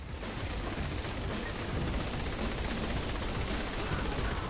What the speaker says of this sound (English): Ah, uh, explosions.